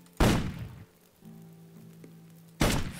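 Cannon shots in the video game Risen 2: two heavy booming thuds about two seconds apart, each a sharp blast fading into rumble, with a faint low tone humming between them.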